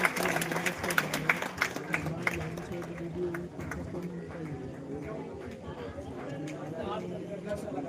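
Scattered audience clapping at a school education summit program, uneven and fairly close, mixed with crowd chatter and voices throughout.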